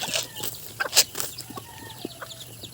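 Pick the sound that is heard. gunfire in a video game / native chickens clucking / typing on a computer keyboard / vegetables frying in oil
native chickens clucking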